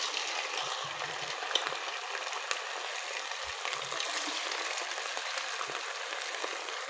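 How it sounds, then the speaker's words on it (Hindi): Semolina and potato finger chips fry in hot oil with a steady, bright sizzle and fine crackling, close up and continuous, broken only by a few soft clinks. "ऑयल अच्छे से गरम हो चुका है। अब इसमें हम एक एक करके पोटैटो स्टिक डालते जाएंगे।"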